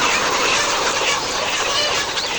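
Layer chickens on a poultry farm, a dense continuous clamour of many birds calling at once, loud and close with no pauses, masking any other sound.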